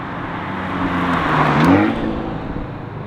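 An Abarth 124 Spider's exhaust roars loudly and close up as the car accelerates on the road, a broad rasping drone that swells and climbs in pitch mid-clip before easing off, with no talking.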